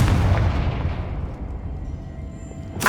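A Confringo fire-blast spell in Hogwarts Legacy bursts with a heavy, rumbling boom that slowly fades out, followed by a sharp crack at the very end.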